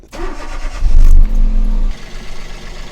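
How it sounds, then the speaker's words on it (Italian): A car engine cranks and catches, roaring loudly for a moment before settling into a steady idle, during a battery diagnostic test on a car that had trouble starting. "Accendo il motore e guardate il comportamento."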